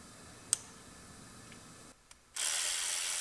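Sharp ratchet clicks from tightening down the intake tube bolts on a Ram Promaster City engine, a few isolated ticks followed by a brief pause, then a steady louder mechanical rush near the end.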